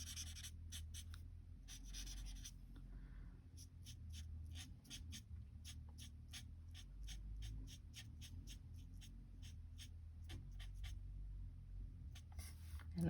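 Scissors cutting around a card image for a three-panel fun fold card, a quiet run of short crisp snips repeating steadily at close range.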